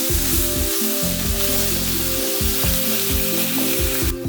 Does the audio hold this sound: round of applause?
no